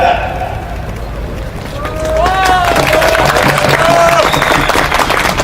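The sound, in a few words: crowd applause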